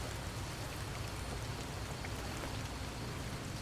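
Steady rain falls in the Fallout: New Vegas video game, a dense continuous patter of drops on surfaces heard alone and evenly loud throughout.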